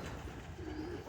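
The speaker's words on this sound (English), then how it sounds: "I released the birds. I got freaked out." Pigeons cooing faintly at a distance, a soft low coo rising out of quiet outdoor background noise, with no voices.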